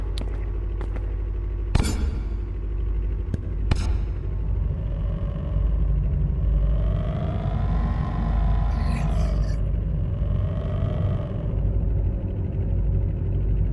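In the Animal Company VR game, a vehicle drives along with a steady low engine rumble that rises and swells midway, punctuated by a few sharp knocks near the start.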